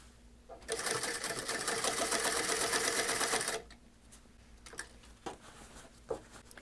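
Sewing machine stitching a jeans hem at about 8 stitches per inch: a close, fast whirring run of rapid stitching lasting about three seconds, then stopping, followed by a few soft handling clicks and rustles.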